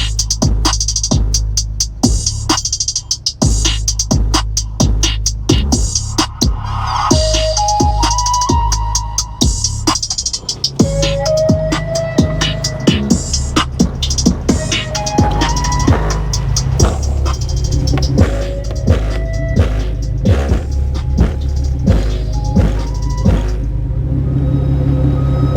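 Two 10-inch Kicker Comp Q L7 subwoofers in an Infiniti G35 pound out deep, heavy bass under loud music with sharp percussive hits, a steady booming low end filling the car throughout.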